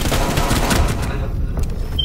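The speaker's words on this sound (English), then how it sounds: "I shot him in the face" Rapid gunfire in Rainbow Six Siege, a dense loud fusillade of shots in quick succession that trails off into scattered pops.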